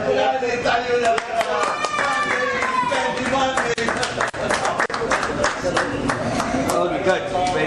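A small group claps on the set of a TV serial shoot for 'Yeh Rishta Kya Kahlta Hai', brisk overlapping claps close by, with people talking over them.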